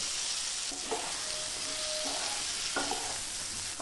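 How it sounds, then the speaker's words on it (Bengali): Chopped tomato and fried potatoes are sautéed with spices in a pan for soyabean do pyaza, making a steady loud sizzle with a few scraping stirs. "তারপর মশলার সাথে একটু কষিয়ে নিয়ে এর মধ্যে দিয়ে দেব ভেজে রাখা আলুগুলো।"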